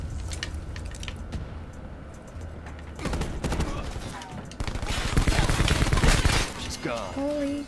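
Bursts of rapid gunfire from a Black Ops 4 multiplayer match, dense overlapping shots that grow louder and busier toward the end, with a voice briefly heard at the close.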